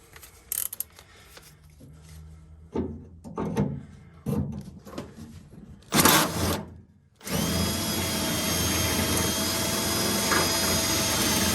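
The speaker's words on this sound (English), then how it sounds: "exactly what you don't want to do when typically drilling out spot welds, and that's go straight through" A power drill whines in short bursts as it bites into a 1968 Camaro's metal drilling out spot welds, then runs in one long continuous drilling stretch, loud and close.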